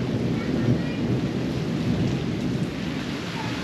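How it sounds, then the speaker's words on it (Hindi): Heavy rain pouring steadily in Panjni, Azad Kashmir, with a low rumbling undertone, a dense constant wash of noise with no voices. "इंतहाई तेज़ बारिश है जी,"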